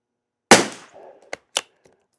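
CCI SV rimfire rounds fired outdoors: one sharp close report with a short tail, followed by two smaller cracks, no talking.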